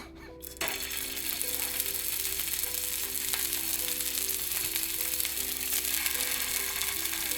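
Vegan meatballs sizzle steadily in hot oil, a constant close crackle and hiss with a faint background hum.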